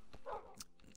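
Minecraft tamed wolves give a short burst of yips and barks, a bright whining bark sitting in the middle of the clip, with quieter game sounds around it.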